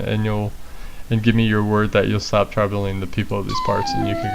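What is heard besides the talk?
No distinct noise like a dog, phone or traffic.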